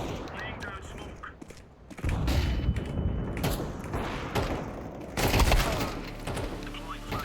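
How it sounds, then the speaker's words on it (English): Counter-Strike 2 gameplay with a flashbang grenade going off: a loud, sudden burst with a ringing, noisy wash that hangs on, then a second jolt, all mixed with gunfire-like clatter and game noise. "Deploying flashbang."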